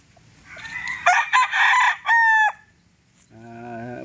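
A Joe Black gamefowl rooster, a one-time derby winner, crows loudly and close in one full cock-a-doodle-doo with a rising and falling call, followed by a brief separate call from another bird at the end.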